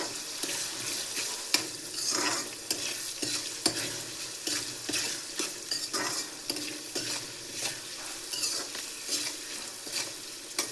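MTR puliyogare mix with turmeric powder is stirred in an oiled pan, giving a soft sizzle with repeated scraping strokes and occasional clinks of the spoon, fairly quiet and without speech.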